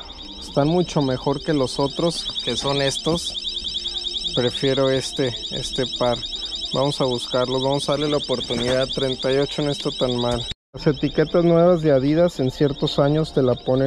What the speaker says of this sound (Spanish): una disculpa por el ruido, son las alarmas de los tenis